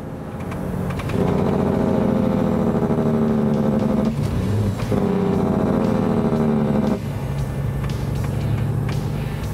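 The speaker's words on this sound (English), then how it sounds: "When John hit those engine brakes, it made the engine pop." An old truck engine rumbles loudly and steadily, with bursts of popping and crackling as the engine brake engages, then a brief break before revving again.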